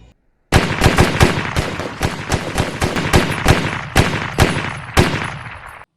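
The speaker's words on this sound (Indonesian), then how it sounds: "Eldridge menembak orang itu dan langsung berhasil membunuhnya." Rapid gunfire from a war film scene with a soldier shooting a man: a loud burst of about a dozen sharp shots in quick, slightly irregular succession, close and alone, after a brief silence.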